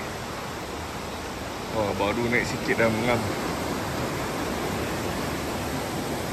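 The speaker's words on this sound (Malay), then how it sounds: "Swimming pool ni datang daripada air terjun ni" Steady rushing roar of a waterfall feeding a natural swimming pool in Ubud, Bali, a constant broadband wash throughout, with someone speaking briefly over it partway through.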